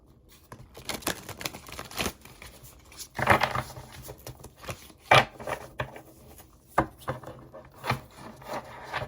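A deck of oracle cards is shuffled close up in uneven bursts of papery rubbing, slapping and flicking, with brief pauses between handfuls and no voices.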